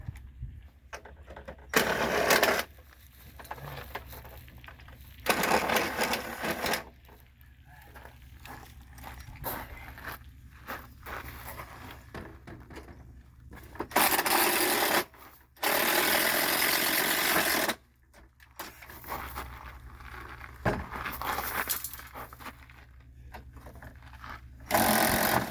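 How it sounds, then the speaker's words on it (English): A power drill bores out the rivets holding an awning cap. It runs in several loud whining bursts of a few seconds each, separated by quieter handling noise. "all you do is just drill out your rivets"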